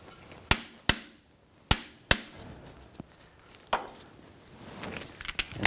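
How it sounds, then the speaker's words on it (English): A torque wrench tightens the front axle bolts on a 2004–2009 Audi A4 Quattro during a CV axle replacement, giving sharp, close metallic clicks at irregular intervals with quieter handling noise between them. "And now we're gonna torque these bolts to 40 foot-pounds."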